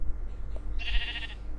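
A single sheep bleats in Minecraft 1.8.9 on a sheep farm, a brief wavering bleat heard clearly against a low steady background hum.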